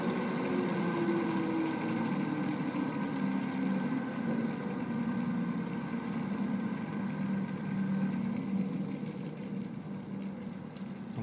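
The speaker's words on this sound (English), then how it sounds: "the motor working minimum" An energy-efficient BLDC motor with dual stator poles runs at minimum speed, giving a steady, continuous mechanical hum with faint tonal whine, close and even throughout with no talking.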